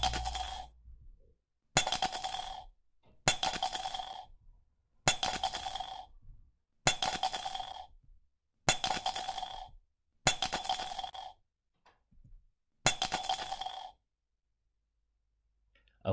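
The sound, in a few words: coins dropping into a mug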